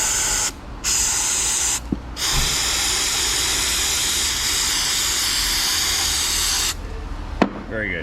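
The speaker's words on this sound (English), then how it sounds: "That looks okay, but I'm gonna spray it off anyway." Long continuous bursts of aerosol cleaner spray onto an engine sensor hiss loudly and close, broken by a few short pauses, with a faint click at one point.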